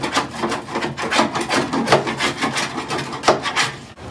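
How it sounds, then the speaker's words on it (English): Seam sealer being scraped off a rusty torsion bar crossmember on a car, a series of close, rough rasping strokes in an uneven rhythm, each scrape a short gritty burst with no talking. "there's lots of this seam sealer crap on here that I need to scrape off"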